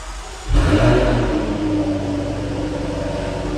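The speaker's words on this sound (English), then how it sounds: "let's start up the supercharged V8. We do that, of course, with the stop-start button" A Jaguar F-Type V8R AWD's supercharged V8 fires up via push-button start with a sudden loud bark, then holds a strong, even high idle that eases slightly.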